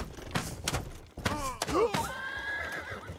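A horse whinnies loudly in the video game Rustler, a wavering neigh amid clip-clop hoofbeats and thuds, with a voice talking briefly over it.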